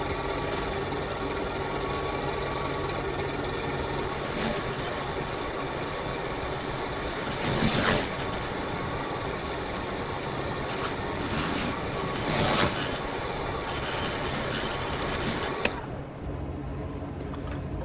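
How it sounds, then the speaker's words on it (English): A wax pad rubs against spinning crabapple wood on a lathe while turning a bird's mouth vase, producing a continuous loud whirring hum with faint friction swells, no talking. "So I'm going to go ahead and start rubbing it with the same pad."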